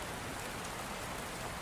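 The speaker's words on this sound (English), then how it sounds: "And as the rain continued to fall in soft whispers" Gentle rain falls steadily and softly, a continuous even hiss of drops on surfaces with no other sounds present.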